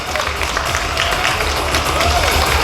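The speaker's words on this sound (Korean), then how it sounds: "우리의 연니버스의 수작 연상호 감독님을 박수로 모시겠습니다." Audience at a film production press event in a Seoul cinema welcomes the director with sustained applause and crowd noise, a loud, steady wash of clapping that continues without a break.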